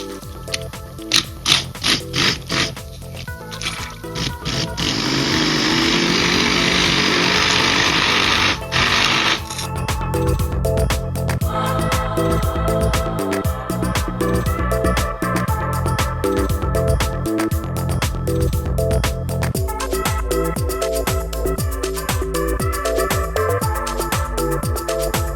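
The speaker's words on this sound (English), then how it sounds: "Now I'm going to try the stick blender on" A handheld stick blender purees mackerel pâté with pickled vegetables. The motor whirs in bursts with clattering, rattling contact against the bowl, swelling into a sustained buzzing grind before settling into uneven churning.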